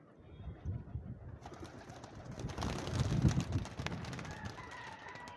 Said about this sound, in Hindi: ये कबूतर उतरने वाला